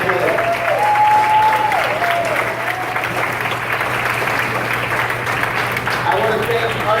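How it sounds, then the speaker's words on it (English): An audience at a Republican Jewish Coalition political event applauds loudly and continuously for a gubernatorial candidate, and a voice rises briefly above the steady clapping near the start. "Round of applause for the future governor of California, please."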